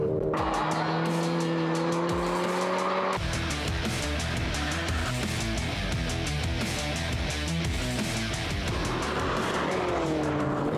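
Mercedes GLA 45 AMG with a seven-speed dual-clutch gearbox driven hard, the engine roaring loud and close as it climbs through the revs with fast gear changes and a harsh, sustained drone.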